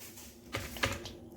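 Typing on a computer keyboard, a few quiet, separate key clicks at an uneven pace over faint background hum.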